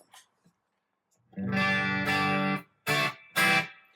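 Distorted electric guitar chords through a TC Electronic Ampworx Combo Deluxe 65 preamp pedal ring out with a splashy, metallic spring reverb tail, followed by two short strummed stabs.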